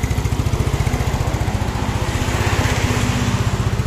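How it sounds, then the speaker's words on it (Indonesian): A Yamaha Mio scooter engine runs at a steady idle, its rapid even putter close and loud from start to finish with no voices. "Ini halus guys mesinnya tuh"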